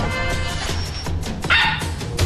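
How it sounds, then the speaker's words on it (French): Dog barking frantically at a television: several loud, close barks and yips in quick succession, with a brief whine between them. "Il aboyait comme un fou après le téléviseur."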